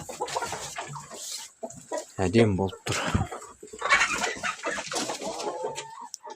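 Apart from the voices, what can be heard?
chickens clucking in henhouse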